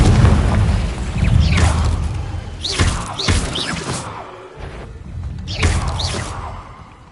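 Confringo explosive spell in Hogwarts Legacy: a string of heavy booming blasts with whooshing sweeps between them, several loud impacts close together, fading briefly before another burst.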